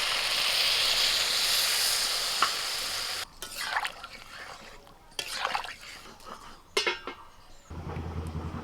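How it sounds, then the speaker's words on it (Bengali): Hot oil sizzles steadily in a pan of fried ridge gourd and potatoes, then water is poured in and the hiss breaks into bubbling, clattering stirs and scraping, with the sizzle returning at the end. "ঝিঙে আলু একটু ভেজে নিয়ে আবার জল ঢেলে দিচ্ছি"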